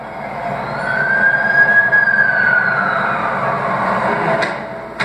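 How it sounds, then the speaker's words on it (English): An ambulance siren in The Amazing Spider-Man 2 video game wails loudly and close, its pitch sweeping up and then gliding back down in one long cycle. "That's the ambulance I called."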